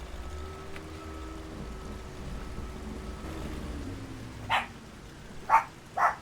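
Luna the dog barking in fright during a thunderstorm, three short sharp barks close together near the end after a stretch of low rumbling rain and background hum.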